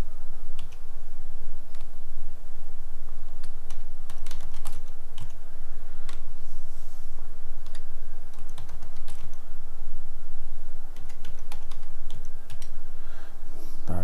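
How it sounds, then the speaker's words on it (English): Steady keystrokes on a computer keyboard while a remove command is entered into PowerShell, with quick irregular clicks running continuously over a low hum and no speech. "I am going to type in the remove command."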